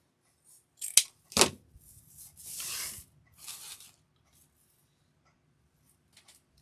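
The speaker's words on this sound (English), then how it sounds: "so then we'll cut these tails. Cut that one." Scissors snipping ribbon tails for a cardinal wreath: two sharp close cuts, then a longer rustling slide of ribbon and a softer brush, quiet in between and with no talking.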